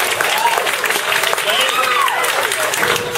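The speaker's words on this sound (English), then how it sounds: "if you applaud for Iowa" An audience applauds loudly and continuously, dense clapping filling the room with scattered whoops and cheers rising over it.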